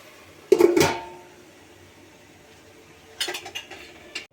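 A metal spoon scrapes and clinks against a pot while a village-style cucumber, tomato and broad bean curry is stirred, two short bursts of clatter separated by a quiet pause, close by.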